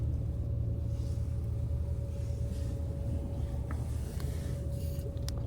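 Blizzard wind storming around a parked car in south Iceland, heard from inside as a steady, loud low roar and rumble that continues without a break, with no talk.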